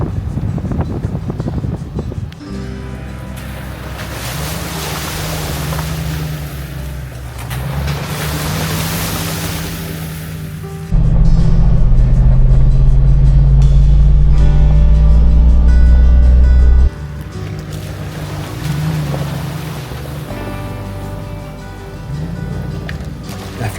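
Off-road overland vehicles driving through Broad Run creek in Virginia, with a continuous loud rush of churning water and engine rumble that swells into a heavy low roar midway, plus wind buffeting the microphone.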